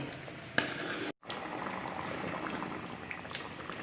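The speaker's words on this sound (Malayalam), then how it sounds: "കടുകും ഇതൊക്കെ കൂടി കാച്ചി ഒഴിക്കാം" A hot mustard-seed tempering is poured into a prawn, jackfruit seed and raw mango curry, giving a close, steady bubbling sizzle with a brief sharp click early on and no talking.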